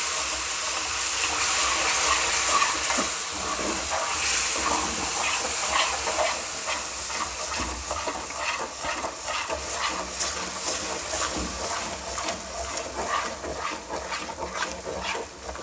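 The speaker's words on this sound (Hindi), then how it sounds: "अब इसके अंदर हम अपना बैटर शामिल करेंगे और बैटर जो है वो थोड़ा थोड़ा आस्ता आस्ता इसके अंदर मिक्स करना है।" Egg batter being stirred gradually into fried semolina for halwa over a low flame, a steady sizzling hiss with soft scraping stir strokes throughout, moderately close and alone.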